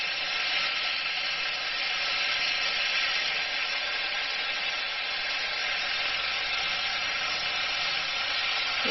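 Tomatoes sizzle in a pan as a biryani base cooks, a steady close hiss of frying with no break and no voices.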